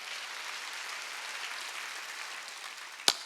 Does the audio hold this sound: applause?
yes